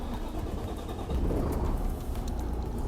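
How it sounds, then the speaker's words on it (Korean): A used cargo truck's engine rumbles at a steady idle with a low, dense mechanical drone that grows slightly louder partway through, heard alone and fairly close. "이 시동 소리 들어보면은 엔진에 문제 있다 없다라는 거는 기본적으로 어느 정도 아실 수 있을 거예요"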